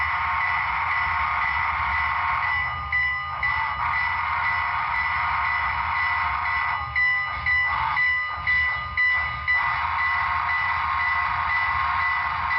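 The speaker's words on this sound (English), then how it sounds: "You can probably hear that playable whistle." A Broadway Limited HO-scale Southern Pacific AC-5 cab-forward 4-8-8-2 steam locomotive with a Paragon 3 DCC sound decoder blows a sustained playable whistle in several held blasts, steady and close, with no talk.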